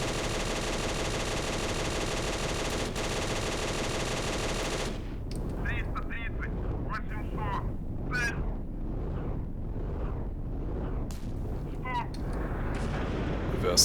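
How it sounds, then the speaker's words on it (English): Bow machine gun on a KV-1E tank firing in the Steel Fury tank game: a steady engine drone gives way to repeated bursts of automatic fire with sharp cracks, loud and close, continuing for several seconds. "Bow machine gun, you are free to engage actually."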